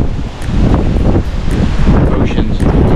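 Heavy wind on a cruise ship deck at sea roars and buffets the microphone continuously, a loud low rumble with faint rustling on top.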